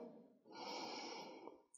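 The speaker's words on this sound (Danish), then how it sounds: "Træk vejret ind" A deep inhalation during a yoga balance session, a soft airy breath in through the nose lasting about a second, close and quiet with no talking.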